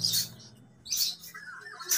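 A bird gives three loud, sharp calls spaced about a second apart, close and clear with quiet gaps between.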